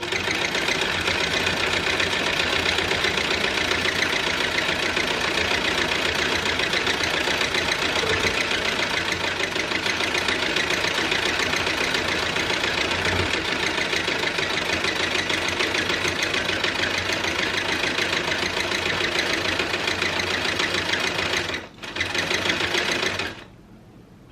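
A sewing machine stitches fabric in a fast, steady mechanical whir held loud and close for over twenty seconds, then stops abruptly, gives a short final burst and falls quiet.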